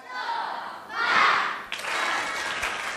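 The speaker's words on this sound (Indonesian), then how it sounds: "boleh tepuk semangat" An audience performs the tepuk semangat clapping chant at an Islamic talk on creativity and discipline, a loud broad wash of group clapping and voices that swells in the middle and continues steadily to the end.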